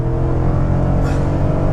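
A 2015 GMC Yukon Denali with a 6.2L V8 accelerating at full throttle, a loud, continuous deep engine roar heard from inside the cabin without any pause.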